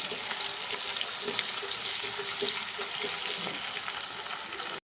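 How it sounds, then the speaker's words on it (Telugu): Ginger garlic paste sizzles steadily in a hot pan for a Sunday chicken leg fry curry, a close, continuous frying hiss with faint stirring scrapes and no talking. "దీంట్లో మనం ఒక స్పూన్ అల్లం వెల్లుల్లి పేస్ట్ వేద్దామండి ఇది కూడా కొంచెం పచ్చివాసన పోయేదాకా మనం ఫ్రై చేసుకున్నామండి"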